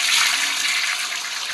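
A toilet flushing in the Roblox video game, with a steady rushing swirl of water that stays loud through the clip and fades slightly toward the end.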